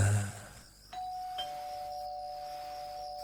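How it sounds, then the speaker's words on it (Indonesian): A house doorbell rings with a clear electronic ding-dong, two tones sounding one after the other and lingering in a quiet room, moderately loud and with no voices. "bel rumah itu berbunyi lagi"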